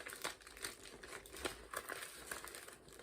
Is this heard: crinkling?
yes